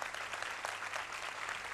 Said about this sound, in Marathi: काव्यासाठी टाळ्या वाजवाच